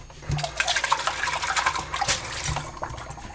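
Red pepper rinsed under a running kitchen tap, a steady close rush of water splashing over the vegetable for a few seconds, with no talking.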